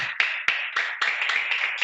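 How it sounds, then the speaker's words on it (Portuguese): A church congregation clapping hands together in rhythm, a dense run of sharp claps at a steady beat, close and without talk. "Pode se assentar e glorificar o Senhor com as palmas."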